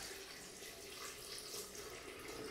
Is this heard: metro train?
no